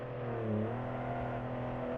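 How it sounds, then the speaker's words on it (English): An imported car in a driving video game hums along with a steady engine drone and a rising turbo whine near the start, evenly loud throughout. "I noticed that there are now turbo noises in the imported cars."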